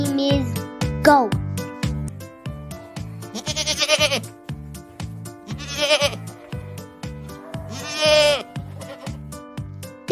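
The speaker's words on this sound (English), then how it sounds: "This animal name is goat." Goat bleating several times in loud, wavering calls over a steady rhythmic musical backing, set among other farm animals.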